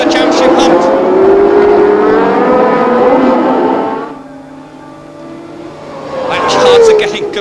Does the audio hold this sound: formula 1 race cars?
yes